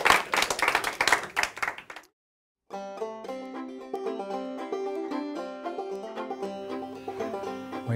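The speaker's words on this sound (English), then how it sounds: "How about a big round of applause for my two helpers?" A small audience gives a short round of applause for two helpers at a rope-and-ring demonstration, a couple of seconds of clapping that stops abruptly before music begins.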